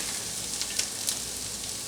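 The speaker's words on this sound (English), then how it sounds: "I got this browning up good and getting a little fond on the bottom" Ground meat browning in a pan for goulash, a steady close sizzle of frying with faint crackles and brief stirring scrapes, no talking.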